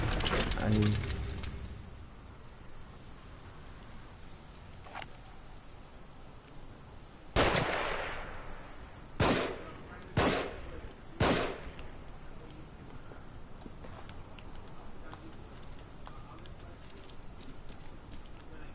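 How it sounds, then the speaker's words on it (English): Enemy gunfire crackles in a video game as a few sharp, loud shots, one followed by three spaced bursts, ring out over a continuous ambient bed. "Find cover. They're shooting."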